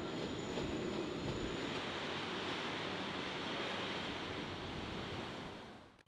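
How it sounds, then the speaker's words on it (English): An Apex Quarry broad gauge freight train passes Jacana station in Melbourne, a steady broadband rolling roar at moderate distance that holds level and fades slightly at the end. "the Apex Quarry train seen here"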